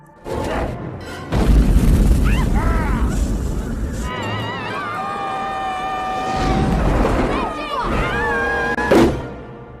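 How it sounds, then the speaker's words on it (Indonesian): A nitrotoluene bomb detonates with a loud, deep boom early on, its rumbling blast washing under a steady narrating voice that talks throughout. "Sontak dia pun melemparnya namun keburu meledak."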